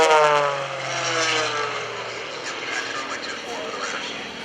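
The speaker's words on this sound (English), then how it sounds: "I'm about to get run over by a jet." A jet aircraft passes low over an airshow crowd, its roar sweeping downward in pitch as it goes by and then fading, with a voice talking over it.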